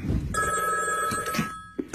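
An old-style telephone bell rings in a cartoon parody, a loud bright jangle lasting most of two seconds before cutting off, with a short voiced sound at the end.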